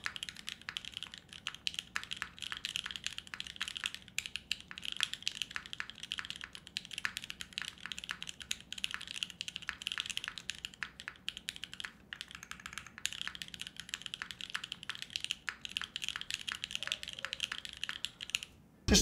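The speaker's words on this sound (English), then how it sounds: "Here's how fast I actually type." Rapid, continuous keystrokes clatter on an o-ring mounted mechanical keyboard with a polycarbonate plate, a dense, steady stream of close, crisp clicks with no voices.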